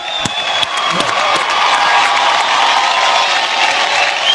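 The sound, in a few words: audience applause at award show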